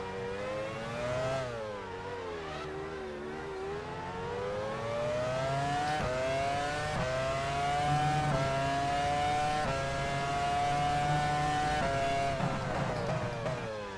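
Formula One car engine in the F1 Challenge 99-02 racing game during a lap in China, a continuous high-pitched whine rising and falling through gear changes, with no talking.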